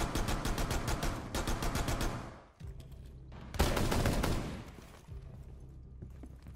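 Shotgun blasts and rapid gunfire in the tactical shooter Rainbow Six Siege, dense loud bursts, a pause, then another heavy volley and fading echoes, no talk.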